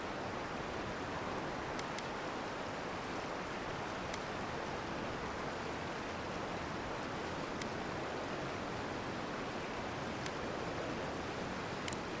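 A waterfall beside a cave in the game Avowed gives a steady, soft, even rush of falling water with no break, and a few faint ticks sit on top of it.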